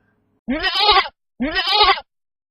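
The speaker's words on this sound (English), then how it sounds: "Crude imitations of a bleat accompany him down the street." Two loud, close goat-like bleats follow one after the other with a short silent gap between them, and nothing else is heard.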